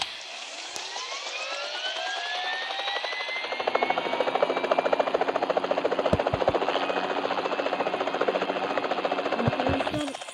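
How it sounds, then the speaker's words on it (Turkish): A helicopter in the video game PUBG: rotor beats in a steady, rapid chop with a rising whine, loud and continuous throughout, with a few sharp clicks. "Helikopter alıp gidiyorum arkadaşlar."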